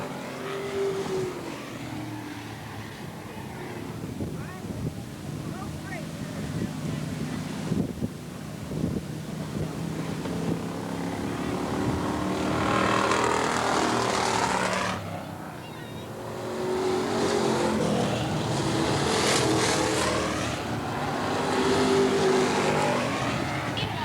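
Race cars lap Eugene Speedway, engines swelling and fading as they pass in waves, with wind buffeting the microphone over a continuous roar.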